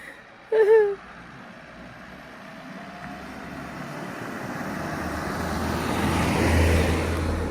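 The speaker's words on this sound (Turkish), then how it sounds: "Araba geliyor hızlı gelir bak." A car approaches fast along a rural road, its engine and tire noise swelling steadily from faint to loud over several seconds after a brief voice at the start.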